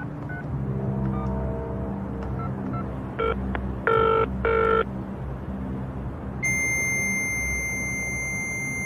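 Telephone call sequence: a few dial tones and short electronic beeps, then a sustained tonal ring over low background hum, with no voices.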